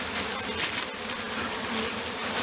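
Continuous insect buzzing from many honeybees during a package installation, a steady dense drone that fills the whole stretch with slight swells in loudness and no voices.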